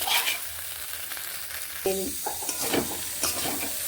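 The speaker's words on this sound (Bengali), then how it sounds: "সব একসঙ্গে বেশ ভালোভাবে কষিয়ে নেব" Potato and pea ghugni masala with chopped tomato sautéing in a pan, a steady close sizzle broken by a few clattering spatula stirs and scrapes, with no talking.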